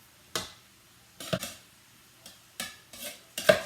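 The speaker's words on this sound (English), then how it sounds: "I'm scraping from the bottom to just get it all mixed up really well" A spoon stirs and scrapes fish cake mixture of fish, sauce, egg, spices and vegetables in a bowl, six separate close scraping strokes with short quiet gaps between them.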